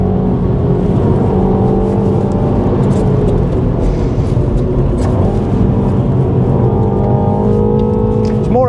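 A 2021 Mini John Cooper Works engine revs and pulls hard out of a corner with a steady, loud drone, pitch rising and falling as it accelerates, with road and wind noise throughout.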